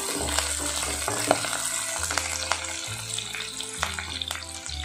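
Onions, green chilli and curry leaves frying in a pan while being stirred for a mushroom pepper fry, a continuous bright sizzle with repeated spoon scrapes and a low hum underneath.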